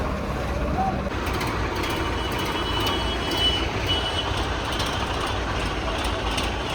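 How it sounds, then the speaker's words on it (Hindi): Busy traffic fills a grain market, a dense steady roar of engines and rumbling vehicles with a reversing beep faintly in the mix. "देखिए दोस्तों, पूरे मंडी में कितना ज़्यादा ट्रैफिक हो गया है"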